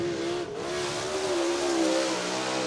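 A late model race car laps Cottage Grove Speedway during qualifying, its engine a loud, steady roar with a rising and falling pitch as it works through the turns, continuous and close.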